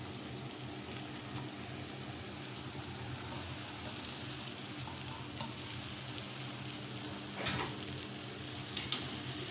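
Vada pieces sauté in a pan for vada curry with a soft, even sizzle throughout, and a few quiet scrapes of stirring toward the end.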